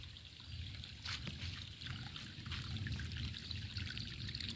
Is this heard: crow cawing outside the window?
no